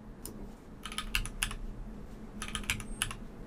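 A PIN being typed on a computer keyboard during a Windows 11 setup: two short bursts of crisp, close key clicks separated by a pause, with no talking.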